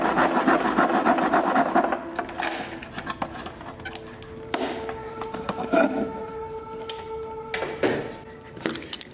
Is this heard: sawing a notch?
yes